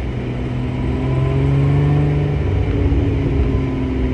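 A Lotus Emira sports car engine pulls steadily under acceleration from inside the cabin, a smooth mid-pitched drone rising slightly over a few seconds with road rumble beneath.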